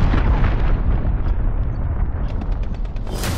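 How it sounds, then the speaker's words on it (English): A cruise missile strike in Call of Duty: Modern Warfare multiplayer, a heavy, rumbling explosion that roars loudly and keeps rolling for several seconds, with a sharper burst near the end. "Allied cruise missile launched."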